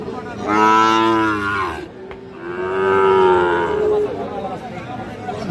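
Cattle moo loudly and close by at a rural cattle market in Dinajpur, Bangladesh, where Sahiwal bull calves are sold, in two long, drawn-out calls, with faint crowd chatter in the background.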